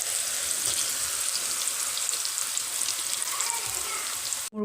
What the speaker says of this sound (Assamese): ঠিক তেনেকৈ মই গোটেই চিপছখিনি ফ্ৰাই কৰি ল'ম।